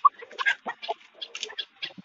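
A rooster at a poultry and livestock market in Campina Grande, Brazil, makes a series of short, close clucking calls, repeated in quick uneven bursts against quiet surroundings.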